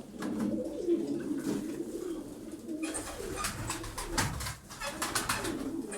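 Taklacı tumbler pigeons coo softly and repeatedly at close range, with fluttering and rustling sounds joining in partway through.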